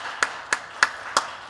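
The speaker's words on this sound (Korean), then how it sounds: "박수 한번 받습니다." Four sharp, evenly spaced hand claps at a Korean church Sunday service, close and distinct, with quiet pauses between them.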